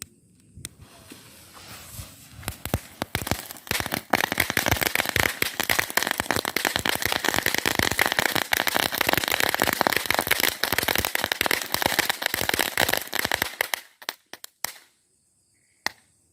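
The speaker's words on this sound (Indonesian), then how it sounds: "Ini dia petasan Green Lightning. Seperti apa kita lihat." A long Green Lightning string firecracker erupts into a rapid, dense crackle of bangs lasting about ten seconds, then a few scattered last pops and silence.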